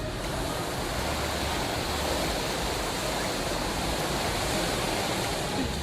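Choppy sea surf at a beach in a hotel zone, a steady broadband roar of breaking waves with no pauses, fairly loud and close throughout, no voices.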